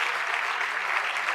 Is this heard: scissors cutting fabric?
no